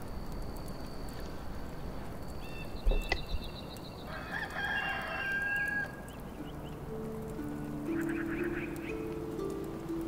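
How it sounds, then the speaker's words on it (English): Rooster crowing in the video game Enshrouded, a fairly faint, drawn-out call heard over steady ambient game noise, with a short clunk partway through and no talk. "Yeah, I got a rooster crowing."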